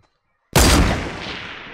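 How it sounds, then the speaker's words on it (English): A single loud sniper rifle shot in the Fortnite battle royale game cracks out after half a second of silence, with a long reverberant tail fading over the next second. "I sniped at him."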